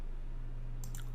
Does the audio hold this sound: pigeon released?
no